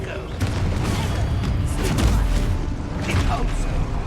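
Confringo spell explosions in the Hogwarts Legacy video game, a few booming blasts and thuds amid clattering combat noise, moderately loud, with a voice speaking over parts of it.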